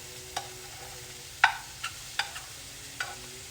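A small amount of onion with mushrooms stirred in a frying pan, a soft low sizzle underneath a few crisp, separate clicks of a utensil against the pan.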